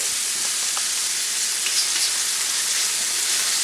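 Oregano-dusted ribeye steak pieces fry in plenty of oil in a pan, giving a constant close hiss and sizzle with faint pops and no talking.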